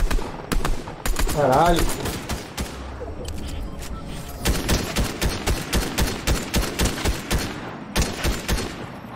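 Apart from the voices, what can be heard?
gunfire in a video game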